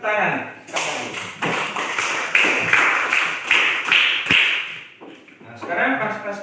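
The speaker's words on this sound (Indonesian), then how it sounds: "Oke, kita tepuk tangan sekali." A small group claps together once in a classroom-style session, a brief burst of hand claps with a teacher's voice talking over and around it.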